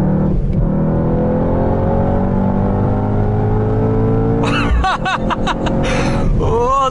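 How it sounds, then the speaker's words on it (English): A Mercedes-AMG GT 4-Door Coupe sports exhaust drones loudly under steady acceleration, then breaks into a rapid burst of sharp crackles and pops as the throttle lifts, followed by a brief renewed rev. "And that AMG sports exhaust, the rattles, the bangs."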